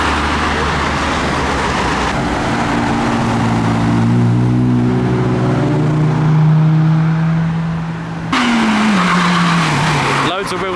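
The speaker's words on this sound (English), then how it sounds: "Loads of wheel spin there." A Nissan S13 spins its wheels at a drive-by car show, tires squealing over a rising, revving engine that fades and swells nearby, with crowd and traffic noise around it.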